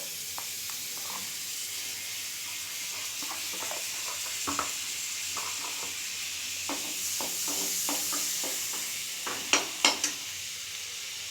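Two spoonfuls of butter sizzle and hiss in a hot pan for Pakistani chicken, a steady frying crackle with scattered pops and a few sharper clinks near the end.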